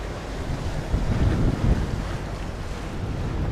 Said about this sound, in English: The boat's so quiet, you just hear the sound of the water.